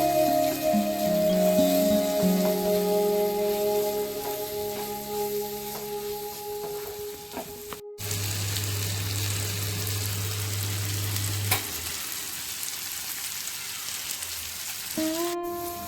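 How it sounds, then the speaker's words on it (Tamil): Steady sizzling and crackling of potatoes and peas sautéing in a pan, continuous and close, with a low hum joining partway through. "இது எல்லாமே நல்லா வதக்கிக்கணும்."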